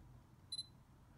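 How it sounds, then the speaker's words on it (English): A Sony A7R II mirrorless camera's shutter fires once with a crisp, short double click, close and alone over a quiet background hum. "we're going to hit the shutter button"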